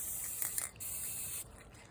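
A steady hiss of an aerosol can spraying varnish, briefly cutting out and resuming, then sputtering at the end as it runs low.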